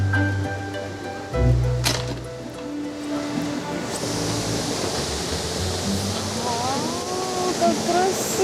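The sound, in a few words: powerful rushing forest river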